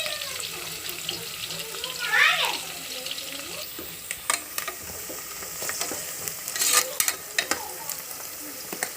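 Masala being stirred into onions frying in a pan for homemade pulao, a scraping, sizzling stir with clinks and splashy bursts, close by, with faint voices in the background.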